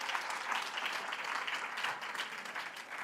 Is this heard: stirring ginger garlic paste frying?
no